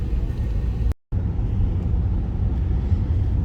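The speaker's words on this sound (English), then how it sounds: "Driving at sunset." A car drives along a snowy road at sunset, its steady engine rumble and tire noise filling the cabin with a brief dropout partway through.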